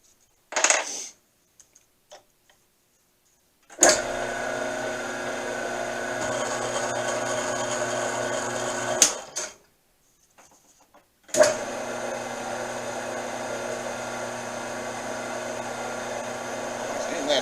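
A combination lathe machines a 2 lb 13 oz bronze hammer made from scrap. Two long, steady passes of close, bright mechanical whirring are heard, each ending in a sharp stop, with short gaps and a brief clatter in between.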